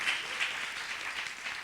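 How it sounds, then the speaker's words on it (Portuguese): Steady applause from an audience in a conference room on a digital health panel, continuous dense clapping at moderate level throughout the brief moment. "peço também uma salva de palmas aqui em sala para todos eles"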